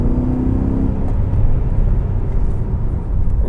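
A supercharged BMW E39 M5 engine rumbles steadily and loudly, heard close up as a continuous deep drone that holds throughout.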